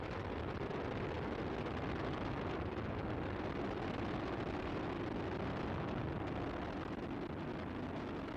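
The main engines of Space Shuttle Discovery roar during launch ascent as a continuous, dense, broadband rumble that holds steady and fairly distant, with no voices over it.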